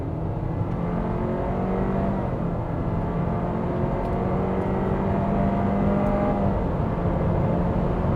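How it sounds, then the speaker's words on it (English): A 2023 Honda CR-V engine roars under sustained wide-open-throttle acceleration, a steady loud drone with rising tones, heard from inside the vehicle with no talking. "Let's do wide open throttle."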